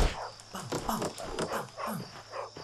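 A dog barks repeatedly in the video game Bully, a series of sharp game-audio barks with a steady rhythm over faint background game sound.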